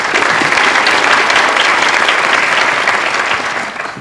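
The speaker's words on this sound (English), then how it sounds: "big round of applause for the students" Audience at a school magnet-program meeting for parents gives students a loud, sustained round of applause, dense clapping filling the room and tapering slightly at the end.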